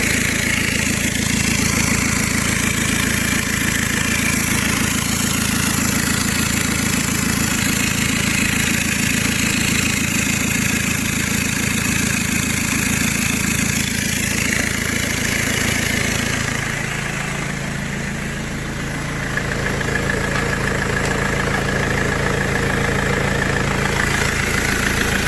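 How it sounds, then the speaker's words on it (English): A BMW E91 diesel car engine idles steadily with a continuous low rumble and no talk, its tone shifting slightly for a few seconds past the midpoint before settling back. "I've started the car, I moved it in here"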